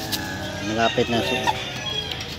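Native chickens and a rooster cluck and crow nearby, with a short burst of loud crowing and agitated calls over a busy outdoor yard background.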